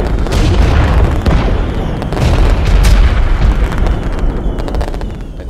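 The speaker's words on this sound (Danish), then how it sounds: "Der kom mange eksplosioner der" Action-movie explosion effects roar in loud, dense bursts of rumbling booms that overlap one another for several seconds with no pause.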